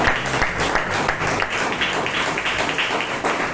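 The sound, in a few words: congregation applause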